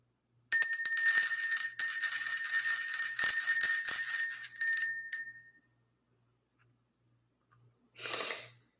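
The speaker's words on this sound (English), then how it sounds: "Let's ring the bell." A bell rung to clear energy before a spiritual message rings out clearly with bright, sustained metallic tones for about five seconds, then dies away; a brief breathy sound follows after a pause. No one speaks.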